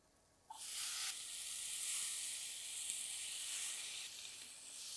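Potatoes drop into a hot pan of masala and sizzle with a bright, steady hiss that starts suddenly and holds close and fairly loud, with faint stirring scrapes and no talking.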